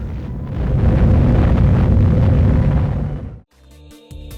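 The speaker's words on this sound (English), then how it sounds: "Nah, just drop a bomb on them." Bomb blast in a strategy video game, one loud sustained boom and rumble lasting about three seconds, then cutting to faint music-like tones.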